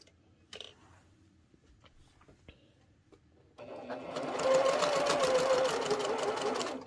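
A sewing machine stitching quilt fabric starts after a few soft handling clicks and taps, then runs in a fast, even whirring chatter that stays steady and close until the end.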